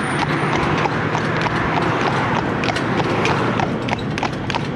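A cob's hooves clip-clop in a steady rhythm on a hard surface, close and clear, with light background noise and no talk.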